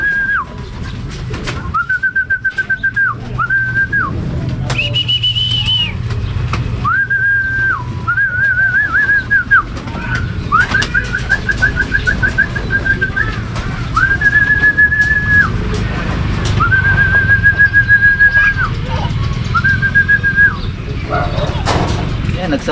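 Racing pigeons arrive at a loft during a grand pooling race, with repeated whistling tones in bursts of a second or two over steady outdoor noise and occasional voices.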